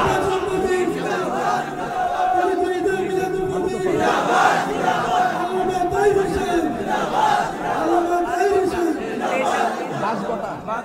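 A large crowd chants a religious slogan at a big outdoor rally in Comilla, a dense roar of many voices rising and falling in repeated waves with shouted calls throughout.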